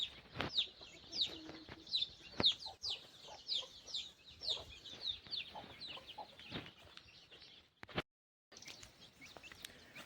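A flock of free-ranging village hens, some black country birds among them, cluck continuously and close by while foraging on scattered grain, with brief breaks and no talking.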